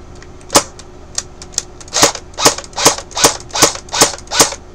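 A Cyma AK47 airsoft rifle running on a 9.6 volt battery through a plug-in MOSFET fires sharp, close clacking shots: a few spaced single shots, then a rapid evenly paced string of loud cracks.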